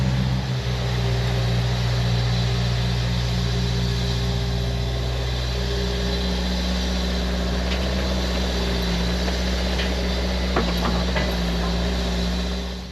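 A tractor loading dirt onto a trailer runs as a loud, constant engine drone close by, with a few faint clanks near the end.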